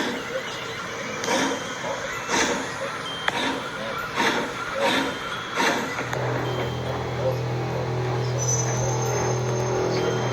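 Timothy the steam engine puffs along a countryside line in a rhythmic run of chuffs, followed by a steady low rumble with a faint high tone above it.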